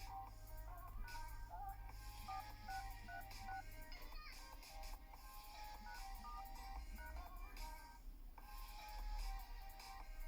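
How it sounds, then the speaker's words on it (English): Keypad tones from dialing a secret code on a Motorola One smartphone: short electronic beeps in an uneven sequence, faint under a steady background hum, running for several seconds. "go to your phone and tap the code like this"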